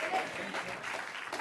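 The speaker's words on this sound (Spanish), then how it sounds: "Denle un aplauso si quiere al Señor" Audience applause at a church conference, a brief burst of dense clapping from a crowd, moderately loud, with a voice speaking over it.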